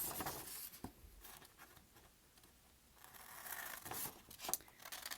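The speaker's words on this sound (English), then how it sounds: "We're going to cut along that crease." Scissors cut along a crease in paper for a graduation cap, quiet close snips and crinkly scraping in short bursts separated by a brief lull, faint and without talk.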